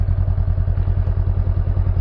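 A motorcycle engine idles steadily up close after being started, with a rapid, even low-pitched pulsing throughout and no voices.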